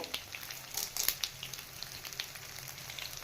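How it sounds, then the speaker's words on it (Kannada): Garlic and curry leaves fry in oil in a pan, giving a steady crackling sizzle with sharp spattering pops near the start, heard close up with no voices. "ಕರ್ಬೇವು ಸೇರಿಸ್ತಾ ಇದ್ದೀನಿ ಇದನ್ನ ಚೆನ್ನಾಗಿ ಫ್ರೈ ಮಾಡ್ಕೋಬೇಕು"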